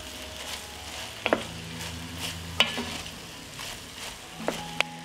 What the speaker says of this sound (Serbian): i nastavljam sve da pržim još 5 minuta.